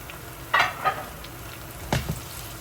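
Onion and sweet peppers frying in a hot pan for Guyanese pepper lamb, a soft steady sizzle with a few louder bursts of crackle and stirring near the start and again later, close by.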